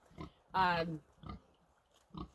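Pigs in a pen fenced with round pen panels give short grunts and one louder, drawn-out squeal, with a person talking between the sounds.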